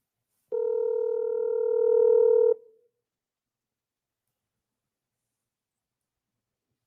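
A phone call tone sounds as a steady electronic tone lasting about two seconds, fairly loud and alone, then cuts to silence.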